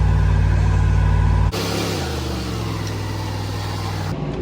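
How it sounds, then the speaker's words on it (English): Chevy wagon engine revving hard during a burnout, a loud sustained roar that drops abruptly and then settles into a lower, rougher note before cutting off near the end. "we're gonna do his first burnout right now"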